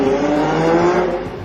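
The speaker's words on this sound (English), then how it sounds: "There's even an app that plays the sound of a racing car through the speakers as you drive along." A simulated racing-car engine note piped through the cabin speakers of a Renault Captur, a steady, loud droning roar with a constant tone that holds for about a second and a half without any talk over it.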